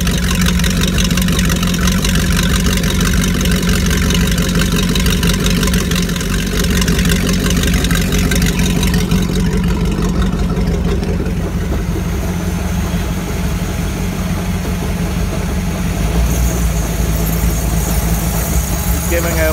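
A Mercruiser 5.7 350ci V8 boat engine runs steadily with a low, continuous rumble, held at a slightly raised idle with a little throttle, loud and close throughout.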